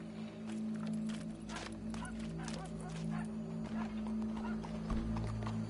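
Horse hooves clip-clop steadily in Red Dead Redemption 2, close and continuous under a bed of sustained tonal background music, with a whinny-like call and a few voices breaking in.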